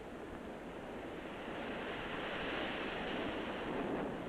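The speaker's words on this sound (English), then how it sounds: "Waves a mile long and smooth as glass." Ocean surf rolls in at Chicama in northern Peru as one continuous broad wash of breaking waves, steady and moderately loud, with a wind-like hiss throughout and no voices.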